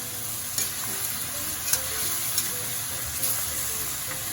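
Sesame oil and cooking wine sizzle steadily in a hot pan for Taiwanese three cup chicken, a continuous crackling hiss with a few sharper pops and light stirring clicks, close and alone.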